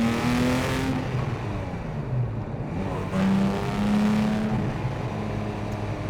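Porsche 911 997 GT3 with a manual gearbox driving, its engine droning steadily from inside the cabin with rising and falling tones as revs change between gears, a continuous loud hum with no talking.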